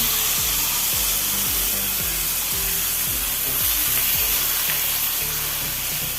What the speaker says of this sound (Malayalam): ഇനി ഒരു ബൗളിൽ തൈര് എടുത്ത് വെച്ചിട്ടുണ്ട് തൈര് ഒഴിച്ച് കൊടുക്കുക